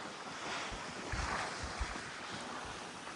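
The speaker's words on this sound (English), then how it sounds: "Flat water sailing." Steady wind and water rushing past a sailboat moving at about 7 knots on flat water in Tonga, with a soft broadband wash and low thumps of the hull, no voices.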